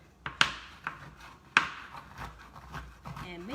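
Cacao bar being chopped with a knife on a board in a kitchen, a few sharp separate cuts spaced irregularly, close and fairly quiet with no talk.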